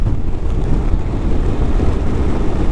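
A 2025 Honda NC 750 DCT motorcycle in sport mode accelerating hard at speed, a loud continuous roar of engine and rushing wind with no gaps, steady and close throughout.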